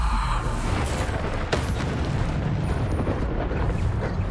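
Bombarda spell blasting in Hogwarts Legacy combat, a booming, rumbling explosion with a sharp crack partway through, followed by a heavy low roar that stays loud throughout.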